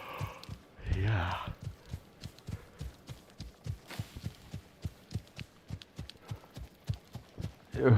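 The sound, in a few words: horse running in video game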